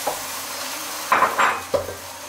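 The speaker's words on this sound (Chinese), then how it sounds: "锅里刷点油，锅热将鸡蛋也倒进去。" Beaten eggs go into a hot, lightly oiled wok and start to fry, giving a couple of short sizzling bursts and a faint scrape against steady kitchen background noise, with no voices.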